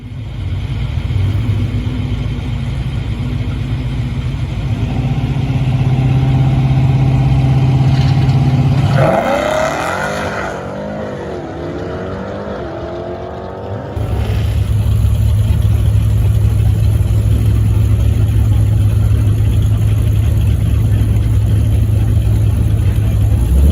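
A 2018 Jeep Grand Cherokee engine idles loudly and steadily, then revs up and winds back down in the middle before settling into its idle again.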